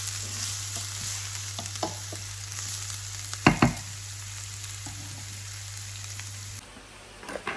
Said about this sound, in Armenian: ես տապակում եմ բանջարեղենը